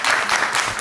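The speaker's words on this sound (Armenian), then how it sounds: "դուք տեղավորվեցիք, ծափահարեն" Audience applause at an energy-themed student competition in Vanadzor: a dense, steady burst of many hands clapping that fills the whole short moment at even loudness, with no voices over it.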